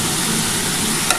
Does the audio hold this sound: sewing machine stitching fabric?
no